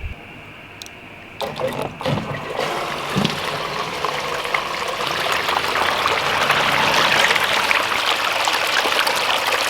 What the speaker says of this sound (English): we're running 1100 gallons an hour from my bilge pump